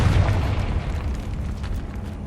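The Confringo fire spell exploding in the video game Hogwarts Legacy, a loud, low boom that rolls off and decays over about two seconds, with no speech over it.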